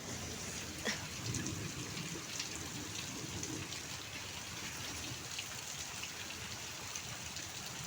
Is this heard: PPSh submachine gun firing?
no